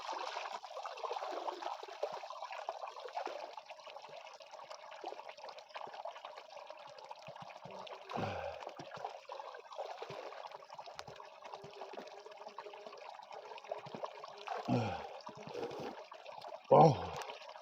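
A natural mountain spring flows steadily outdoors, a constant close trickle and gurgle of water running on and on, with a few brief bumps and handling sounds over it.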